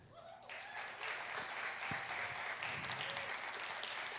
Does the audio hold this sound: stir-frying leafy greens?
no